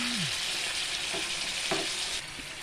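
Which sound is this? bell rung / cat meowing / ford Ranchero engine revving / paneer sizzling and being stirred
paneer sizzling and being stirred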